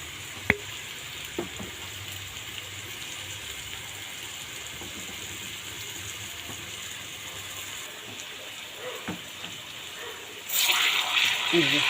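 Mustard oil going into a hot wok on the stove, a quiet background hum and a few small clicks, then a sudden loud sizzle that takes over near the end.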